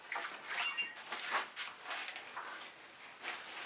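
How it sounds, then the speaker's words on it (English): Fingers rinsed of fluid acrylic paint in a small container of water, soft repeated splashes and swishes, close and quiet. "Right after I rinse my fingers off."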